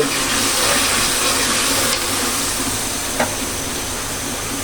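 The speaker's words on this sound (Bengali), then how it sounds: "এই যে আমি এভাবে পাবদা মাছটাকে ভেজে নিয়েছি" Pabda fish shallow-frying in a pan, a steady broadband sizzle and hiss holding close and fairly loud throughout, with a faint brief tick near the end.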